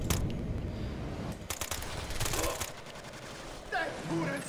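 Bursts of automatic gunfire in the video game Ghost Recon Future Soldier, with rapid fusillades of shots, some close and loud, with game voices and radio chatter toward the end.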